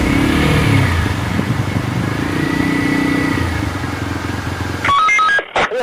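A black TVS Apache motorcycle roars loudly and steadily at high speed for about five seconds as it speeds off, then cuts away to a few sharp electronic phone beeps.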